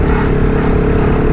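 Motorcycle, an Apache 160, heard steadily while leaning through a curve: a loud, continuous engine drone with low rumble, close to the rider and without pauses.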